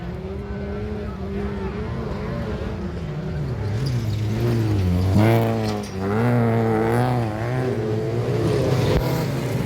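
Autocross race cars at a youth-class event in Eppe, Germany, climb uphill in a line, engines droning and revving with rising and falling pitch, loud and close throughout.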